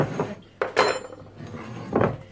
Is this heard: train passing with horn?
no